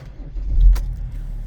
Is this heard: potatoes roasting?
no